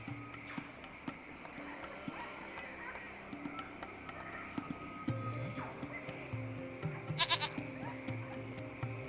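A goat bleats in the video game Lost Horizon, repeated calls over a steady outdoor ambience with background music tones and a brief run of clicking sounds.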